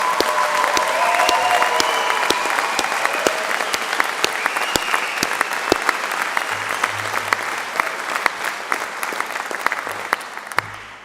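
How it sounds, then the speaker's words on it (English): Steady applause fills a graduation ceremony hall, a dense wash of many clapping hands with sharp individual claps standing out near the front, lasting throughout and slowly thinning toward the end. "I think an even bigger round of applause"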